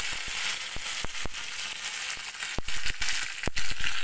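Mustard seeds, dried chillies and curry leaves fry in hot oil with a continuous sizzle broken by sharp, scattered pops and crackles that grow louder toward the end.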